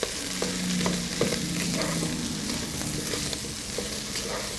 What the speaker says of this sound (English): We're going to give it a little bit of a stir.